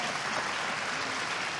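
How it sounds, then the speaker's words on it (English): Audience at an art talk applauds Andrea Bowers, a steady, dense wash of clapping that holds evenly for a short stretch with no voices over it. "A big round of applause for Andrea Bowers."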